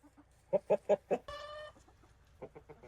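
Hens cluck inside a snowy farm coop, a run of four loud, evenly spaced clucks followed by a drawn-out squawk and then softer, quicker clucking close by.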